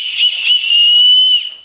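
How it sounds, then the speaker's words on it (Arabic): A referee's whistle is blown loudly up close, with two quick chirps followed by one long sustained shrill blast that then cuts off. "صفارة. صفارة الحكم."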